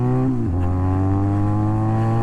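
Benelli 502c motorcycle with a new exhaust revving, a close, steady engine drone that dips briefly, then settles at a higher, even pitch.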